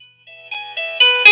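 Synthesized melody notes playing back, bright electronic tones stepping up in pitch and growing louder and denser with effects, short and clean with no talk.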